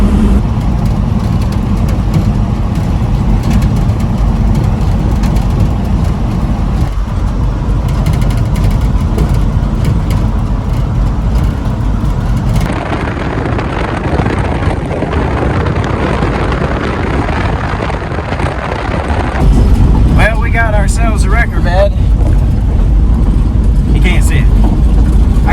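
A Chevrolet K30 truck with a loaded wrecker bed drives along, its engine and road noise a loud, steady rumble. Faint rattles come through partway in, and a person talks over the drone.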